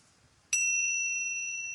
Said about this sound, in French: Le son de la cloche dans les traditions tibétaines et zen représente le vide